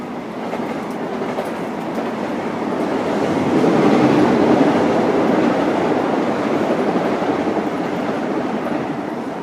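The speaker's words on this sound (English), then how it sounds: "Another train." A train rumbles past with a steady clattering roar that swells in the middle and then eases slightly, no voices.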